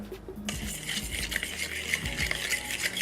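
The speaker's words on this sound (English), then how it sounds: "And then what you do is give it a stir" A spoon scrapes and clinks around inside a metal pot in a quick, steady stirring rhythm, close by, with a soft sizzle beneath.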